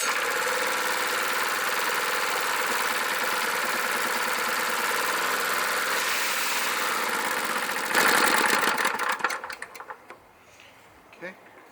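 Cheap secondhand plate compactor engine idling with a steady rough rumble and a louder rev near the end before it dies down, while a person talks over it.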